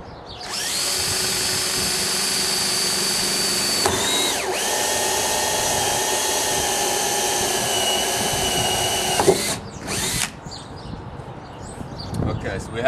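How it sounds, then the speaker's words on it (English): A power drill turns a medium-sized hole saw through the plastic wall of a rain barrel near the top, cutting an inlet hole in one loud, steady whine of about nine seconds, then stopping with a few short bursts and rattles. "we have our inlet hole drilled with the medium-sized hole saw."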